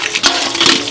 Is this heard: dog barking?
no